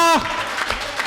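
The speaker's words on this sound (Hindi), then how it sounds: "सर देखिए कमिश्नर साहब ने भी ताली बजाई" Brief burst of audience clapping at a Hindi comedy poetry gathering, rising right after a voice and holding steady for about a second, busy and close.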